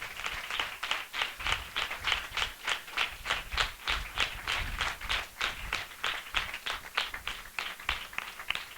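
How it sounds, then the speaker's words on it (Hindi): Loud, rhythmic clapping from a gathered congregation at a spiritual assembly, a steady pattern of roughly three claps per second continuing evenly throughout. "हम जोरदार ताली से उनका स्वागत करें।"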